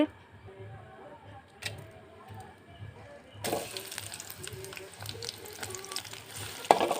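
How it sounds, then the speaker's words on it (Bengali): Food fries in pure mustard oil with a sudden rising sizzle that then crackles steadily close by, with faint stirring clinks and a voice talking briefly before it. "এ তো খাটি সর্ষের তেল দিয়ে দিতেছি"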